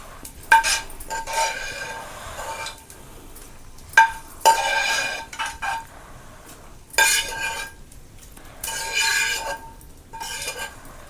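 Fried ingredients for a coriander-tomato roti chutney are scooped from a pan onto a plate in separate bursts of metal spatula scraping and clinking. The sounds are close, with quiet pauses between strokes and no talk.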